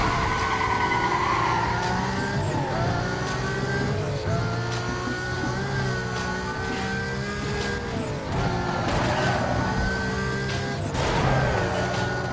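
Several cars roar off the line together at a race start in Need for Speed Most Wanted, engines revving hard and rising through gears, loud and continuous throughout.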